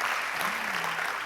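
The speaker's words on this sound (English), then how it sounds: "Some applause, please." Steady applause from a conference audience welcoming a speaker on stage, a dense even wash of clapping held at moderate level throughout the short stretch.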